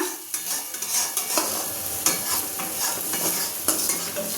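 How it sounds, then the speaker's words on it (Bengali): Boiled potatoes frying in a pan, with a close, steady sizzle broken by frequent scraping stirs and spatula knocks. "আমি ভাজতে ভাজতে দেখে নিই আমার অনেকটা ভাজা হয়ে গেছে।"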